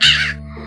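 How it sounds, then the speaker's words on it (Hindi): A crow gives a single short, harsh caw that is loud and close, then fades into a quiet tail. It is heard alone. "अब दोस्तों, कौवे राजा की आवाज सुनिए।"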